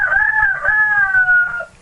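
A rooster crows once in a mudroom, a single loud, sustained call that rises and then slowly trails off, close and with no other sound over it.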